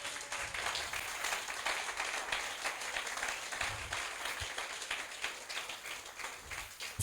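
A church congregation at a revival seminar applauds in sustained, dense clapping that fills the room evenly for several seconds, with no voices standing out.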